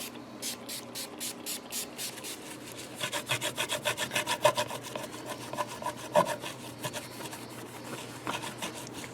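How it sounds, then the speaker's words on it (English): Rhythmic rubbing strokes as a cleaning product is worked over the grimy, badly worn body of a first guitar, with steady back-and-forth scrubbing that grows louder and quicker partway through, close and without talk. "Getting some of that grime off of it."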